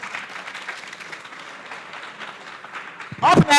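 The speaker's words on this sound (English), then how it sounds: "Round of applause for them once again" An audience at a career expo claps in moderate, scattered applause for a college group, and a voice cuts in near the end.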